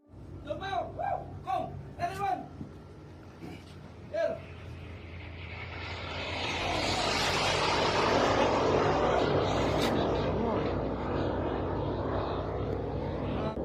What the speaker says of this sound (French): un navire marchand au Moyen-Orient qui filme des Tomahawks survolant le navire en direction de leur cible en Iran